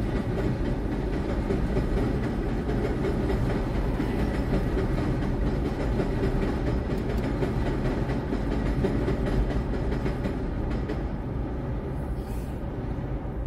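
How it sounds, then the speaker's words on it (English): A Number 5 elevated subway train rumbles along the tracks overhead at Boston Road and East Tremont Avenue in the Bronx, a steady loud roar with faint rail clatter layered over street traffic, no talk. "We are passing under the elevated tracks of the number 5 train"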